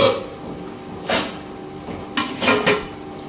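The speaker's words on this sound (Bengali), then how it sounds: "ঢাকনা দিয়ে ঢেকে দেবো।" A lid goes onto a cooking pot of mutton and potato curry, with a few sharp metallic clanks and knocks spaced across a few seconds and a louder cluster of rattles near the end.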